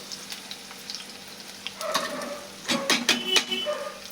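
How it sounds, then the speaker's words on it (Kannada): Chopped onions sizzle and fry in hot oil in a pan while dill greens palya is being cooked, a faint crackle rising to louder spits and stirring clatter near the end, with no talking. "ಈಗ ಇದು ಎಣ್ಣೆ ಒಳಗೆ ಫ್ರೈ ಆಗಲಿ ನೋಡ್ರಿ."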